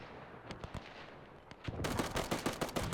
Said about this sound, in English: we've got our Bulgarian machine gunner as well